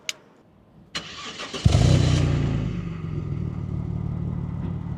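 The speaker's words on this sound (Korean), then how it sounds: "이 디젤과는 확실히 다른 실키한 느낌의 배기음이 있네요" An Audi A4 with a quattro drivetrain is heard up close. After a couple of sharp clicks, the starter cranks and the engine catches with a loud burst, then settles into a smooth, steady idle with a silky exhaust note.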